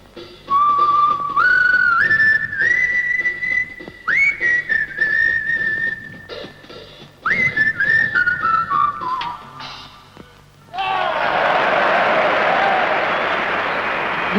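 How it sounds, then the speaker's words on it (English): A man whistles a short, bright tune, rising phrases with held notes and brief pauses, clear and close, before a burst of broad noise like applause takes over near the end. "he whistled a little tune"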